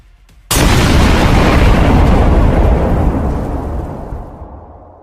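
An ATGM missile strikes a Bradley fighting vehicle in a sudden loud blast, followed by a long rumbling roar that slowly fades over several seconds.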